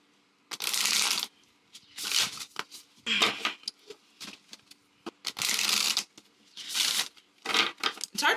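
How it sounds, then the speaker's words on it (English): Riffle shuffles of a coated matte Halloween oracle card deck come as repeated short, crisp ripping bursts, about six of them, close and clear, separated by brief quiet gaps. "let's see if a riffle shuffle will break that up"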